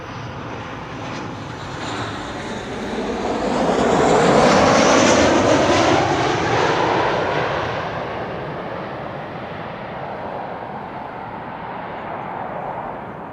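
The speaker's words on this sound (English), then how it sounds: "Tarom arriving from Bucharest, flight 361." Tarom airliner arriving from Bucharest at Amsterdam Schiphol, a loud jet roar that swells as it passes close overhead and then fades into a steady distant rumble.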